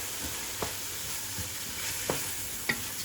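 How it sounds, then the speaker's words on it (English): Rice is tipped into a hot pan of sautéed mushrooms for risotto, a steady frying sizzle running throughout with a few soft scrapes and clicks from stirring. "now she's going to add the risotto"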